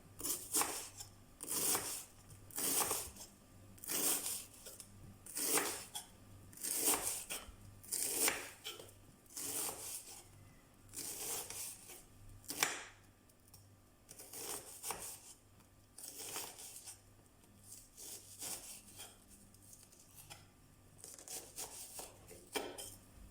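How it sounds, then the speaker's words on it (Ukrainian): A knife chops onion into small pieces for processed cheese soup, making a long run of crisp, evenly spaced crunchy strokes against a board, close and moderately quiet, with brief pauses between bursts. "Поки вода закипить, ми наріжемо цибулю."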